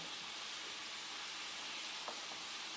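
Shrimp and garlic sizzle in a hot pan over high heat, a steady bright hiss of frying that holds throughout with a faint tap near the end, no voices.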